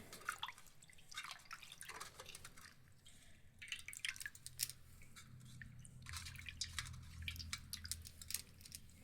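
Food being rinsed a second time in a pot of water in a home kitchen while cooking Muslim-style dalcha, with steady small drips and splashes, soft squishing and scattered clicks, fairly close and quiet, without talk.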